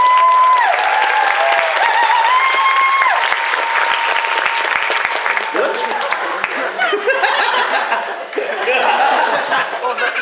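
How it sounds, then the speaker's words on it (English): Audience applause with laughter and cheering fills a cosplay competition hall for a Princess Peach cosplayer, loud and sustained, with a host's voice and whistling tones over the crowd. "do you have one last pose for us while we applaud you?"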